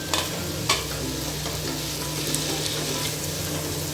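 Prawns fry in masala for prawn biryani, giving a dense, continuous sizzle with a few sharp spatula scrapes, close up and fairly loud, with no voices.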